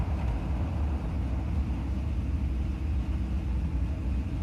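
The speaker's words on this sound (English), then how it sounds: "Car noise is worse." Car engine noise in Gran Turismo 7 during racing, a steady low rumbling drone that holds at an even level throughout with no voices.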